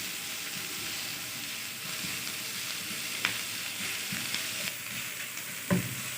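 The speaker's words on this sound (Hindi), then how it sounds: "अब इसमें लहसुन अदरक का पेस्ट डाल देंगे," Garlic and ginger paste frying in oil in a pan alongside softened onions for a bhindi chicken dish, a steady close sizzle with occasional stirring clinks and scrapes, no talk.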